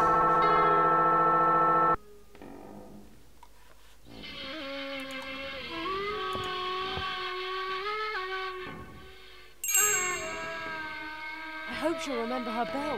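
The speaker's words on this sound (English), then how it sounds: "Let's see what happens when I hold this thing against the bell." A bell in the video game Night of the Rabbit rings loudly and harshly, a strong tonal clang opening the clip, followed by sustained ringing, whistle-like tones and game sounds.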